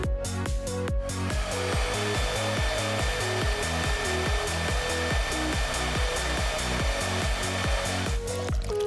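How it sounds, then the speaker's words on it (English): A brand-new construction mixer churning a giant batch of potato and egg dough for homemade Pringles, a loud, steady mechanical whir with a rhythmic pulsing drone that cuts out near the end. "We'll be using a brand new construction mixer to mix it well."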